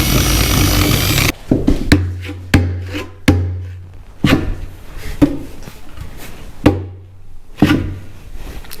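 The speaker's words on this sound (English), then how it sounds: "Old drill." An old power drill whines in a roughly one-second burst, then a string of sharp knocks and brief scraping bursts as it works on a part during a Honda Big Red restoration, close and loud.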